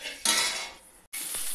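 Grated onion hits a hot pan where cauliflower is frying for a roast. A sudden loud sizzle flares up, fades a little, cuts out briefly, then the steady hiss of frying carries on close by.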